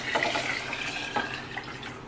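Chicken broth is poured into a pot holding tomato sauce, giving a steady, soft liquid splashing and gurgle that runs for about two seconds, with no voices.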